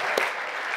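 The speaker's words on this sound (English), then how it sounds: "Give my wife a round of applause." Conference audience at a tech talk breaks into applause, a short, even wash of many hands clapping at moderate distance, fairly faint and brief.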